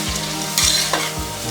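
Sliced onions sauté in hot oil with cardamom, cinnamon, cloves and fennel seed for an egg biryani, giving a steady close sizzle broken by a few quick stirring scrapes.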